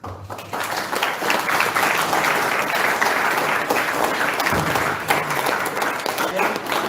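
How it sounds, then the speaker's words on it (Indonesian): Seminar participants applaud a presenter after a talk on ecocide in the Mepago region of Papua, a full, even burst of clapping that starts abruptly and holds at a steady level with a little crowd murmur. "Lagi memberi aplaus kepada Bapak yang membawa materi."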